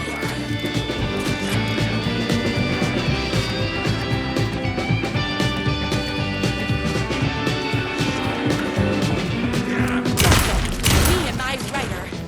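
Gunfire in the Night Springs video game: steady game music and clatter run throughout, then a loud burst of shots cracks out near the end.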